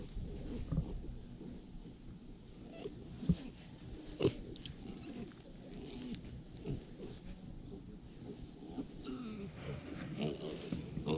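Pigs at Staniel Cay grunt and snort close by in short irregular bursts over a low, steady background noise.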